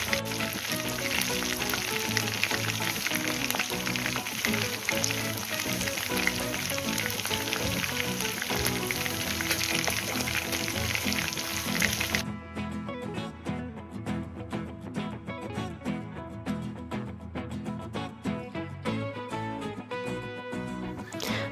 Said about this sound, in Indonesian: baru kita goreng supaya matangnya merata dan rasanya meresap sampai ke dalam ayamnya ya.